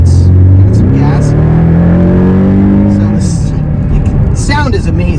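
A 2019 Porsche 718 Boxster pulls hard up a highway on-ramp, its engine note climbing steadily and loud under the cabin, with a voice speaking briefly near the end.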